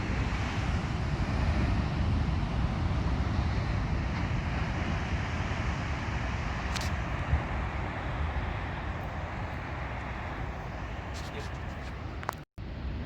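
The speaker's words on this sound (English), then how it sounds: "There's some mighty waves coming in." Heavy ocean surf rolls in at Cape Disappointment as a steady, roaring wash of breaking waves, with wind buffeting the microphone throughout and a brief thump near the end.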